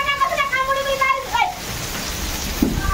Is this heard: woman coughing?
no